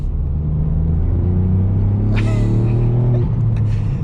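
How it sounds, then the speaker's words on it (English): A Ford Fiesta ST with a Stage 1 remap revs up with a rising intake roar, heard from inside the car, then eases off near the end. "You actually get so much more induction noise with this"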